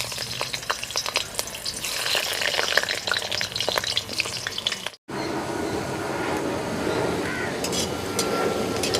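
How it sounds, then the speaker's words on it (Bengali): Large chunks of potato frying in hot oil for a Bengali rui fish dish, a steady close crackling sizzle throughout with a brief cut near the middle, no talking. "আমি একটু ভেজে নেব।"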